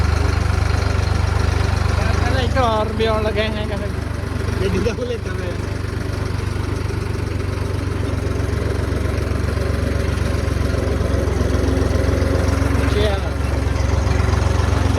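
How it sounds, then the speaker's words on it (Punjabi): A tractor engine, run for the first time in a long while, idles with a steady low rumble throughout, while people talk over it. "ਟਰੈਕਟਰ ਬੜਾ ਟਾਈਮ ਬਾਅਦ ਚਲਾਇਆ"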